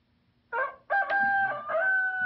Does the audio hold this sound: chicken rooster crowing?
yes